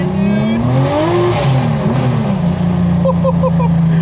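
A 500-horsepower car accelerates hard in first gear, its engine note climbing loud and close with a rising whine.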